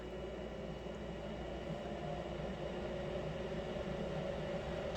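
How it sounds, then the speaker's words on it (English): A ventilation fan in an IKEA Besta cabinet housing a resin 3D printer runs at a steady, even level, a constant broadband whir and hum with no breaks and no voices. "once you click it, you can see the fan spool up."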